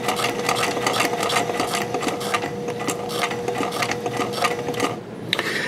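A White 1899 mechanical sewing machine stitches vinyl and leather with a steady, rapid, close whirring and clatter that runs almost without a break before briefly easing near the end.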